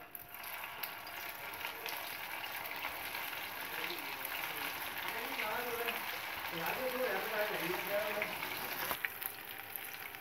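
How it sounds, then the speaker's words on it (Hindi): Cheese burst lollipops frying in hot oil in a pan, a soft continuous sizzle and bubbling at low volume, with faint voices in the background. "अब हम लॉलीपॉप को फ्राई कर लेंगे।"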